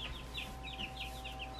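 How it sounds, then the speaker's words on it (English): Cornish Cross meat bird chicks in a brooder give soft, repeated high peeping chirps at close range over a low steady hum of background noise. "It always amazes me how fast the Cornish crushed meat birds grow out."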